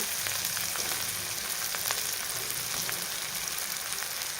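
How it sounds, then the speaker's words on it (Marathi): Stuffed masala eggplant fries in oil with tomatoes in a pan, a loud, close, continuous sizzle with scattered crackles and pops and no talking. "आणि हे पण आपल्याला तेलामध्ये छान परतून घ्यायचे"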